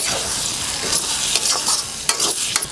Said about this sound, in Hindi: ये हम इसको इतना भूनेंगे कि एकदम से भुरभुरा हो जाएगा